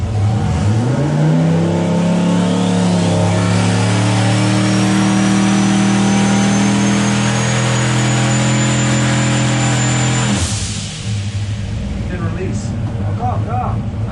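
Turbocharged small-block Chevy V8 with stock rods and crank revving hard on a dyno, a loud sustained pull with rising turbo whine for about ten seconds, then cutting off to a lower idle rumble with faint voices.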